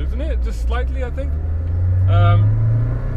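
A Lada 4x4 with a slightly slipping clutch pulling away in first gear, its low engine drone rising in the middle under a man's conversation.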